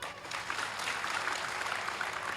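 An audience claps during a Marathi sermon about Shravan Bal, a steady, fairly soft wash of applause from a crowd that holds for a couple of seconds with no voice over it.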